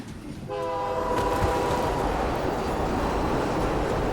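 In a video game, a train horn sounds, then a loud steady rumble of rolling rail cars fills the scene as the train arrives, continuous and close.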